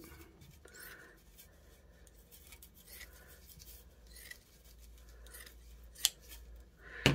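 Scissors cut across material for a homemade wig block, quiet snipping and rustling scattered over several seconds, with a couple of sharper clicks near the end, close and soft.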